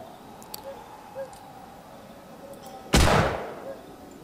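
A single burst of gunfire from the World War II shooter Hidden & Dangerous 2 cracks out loudly and decays briefly, standing apart from a quiet background with a few faint ticks and tones.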